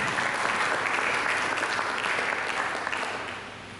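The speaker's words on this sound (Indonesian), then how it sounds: "Berikan tepuk tangan untuk Yesus bersama." A church congregation applauds steadily during a sermon, a dense wash of clapping that fades out toward the end.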